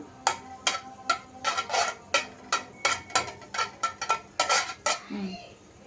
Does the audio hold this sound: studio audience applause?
no